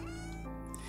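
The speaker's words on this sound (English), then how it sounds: "Got a cat over here next to me." A pet cat, Archer, who can't meow properly, gives a short strained tonal meow lasting about a second, close and steady with a slight bend midway.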